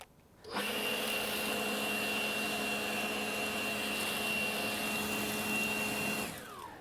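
A battery leaf blower on its low setting clears mulch, starting abruptly with a steady whine and airy rush that holds even and fairly close, then winds down at the end.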